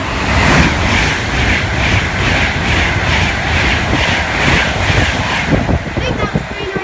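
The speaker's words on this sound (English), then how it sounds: "Okay, we've got a Class 390." A Class 390 electric passenger train runs past on the West Coast Main Line at Kings Langley with a sustained rushing roar and rhythmic clatter of wheels over rail joints, a voice briefly audible beneath it.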